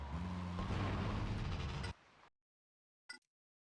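An explosion in GTA Liberty City Stories, a loud, dense blast with rumbling low end that cuts off abruptly, followed by silence and a brief faint pop.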